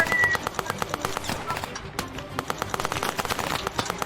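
Soldiers sheltering behind a tank fire their guns in rapid, dense crackling bursts, a steady rattle of sharp shots with a faint distant quality.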